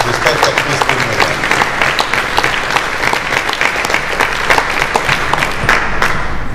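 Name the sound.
applause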